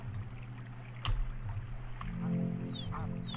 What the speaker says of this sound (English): There we go, all the ducks.